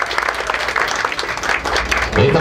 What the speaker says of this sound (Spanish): un fuerte aplauso también a la primera dama